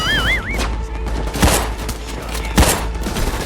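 Loud gunfire in the video game Payday 2 sounds as a few heavy, booming shots spaced about a second apart over a constant dense background din. A wavering electronic tone is heard at the start.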